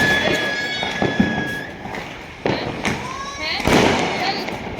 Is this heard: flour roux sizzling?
no